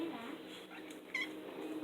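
A house cat gives a short, fairly faint meow amid quiet background sounds, with a person's voice murmuring faintly nearby.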